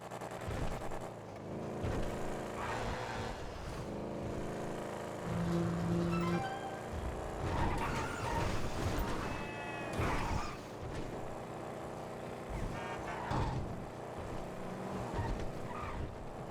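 Vehicle driving in GTA V, a tow truck being delivered across the map, steady engine drone with revving and passing traffic throughout, game sounds layered on top.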